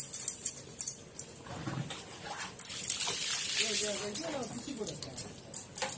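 Water splashes and sloshes over a puppy during its bath at home, in uneven bursts of splatter and trickle, with people talking and calling out over it.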